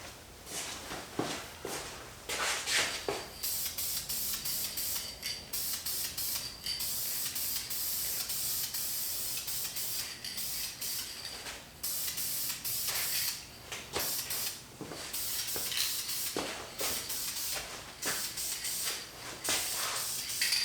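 Bursts of aerosol spray paint hiss in short and longer pulses with brief gaps, close and steady, broken by faint clicks and handling noises.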